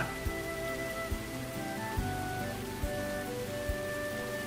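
Rain drums steadily on a tin roof in the video game Angel's Tale, a dense, even patter with a few soft thumps mixed in, and faint music tones running underneath.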